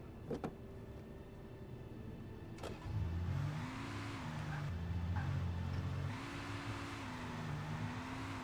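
A car engine starts in Alan Wake Remastered with a brief crank and then settles into a steady mid-pitched idle and rev that holds close and moderately loud until the end.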